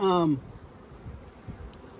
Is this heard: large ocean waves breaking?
no